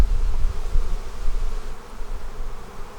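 Honey bees hum around a hive box in a steady low drone, close by and continuous, with no talking.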